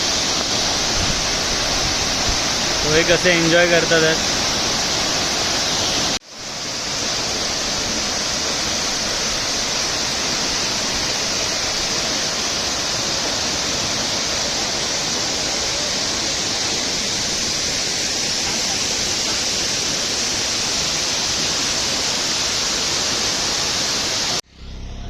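Savatkada waterfall near Rajapur in Konkan, water plunging from a great height in the rain, a steady loud broadband roar that fills the whole stretch, with a brief cut and a few voices early on.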